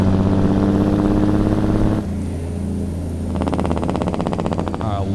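A heavy truck engine in the video game Outlaw Trucker idles with a deep, steady rumble, then revs up with a rising, rattling roar; a voice talks over parts of it.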